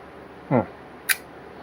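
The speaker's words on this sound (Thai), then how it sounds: "ชัตเตอร์บีขึ้นฟิล์มกดถ่าย" A short mechanical whir is followed a moment later by a single crisp shutter click from a Minolta Hi-Matic 11 film camera, close up in a quiet room.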